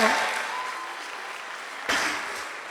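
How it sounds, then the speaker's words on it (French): An audience applauds a comedian at a stand-up show, a broad wash of clapping that fades gradually, then swells again briefly as a fresh burst of claps joins in near the end. "on dit Uruj Takam, les gens applaudissent"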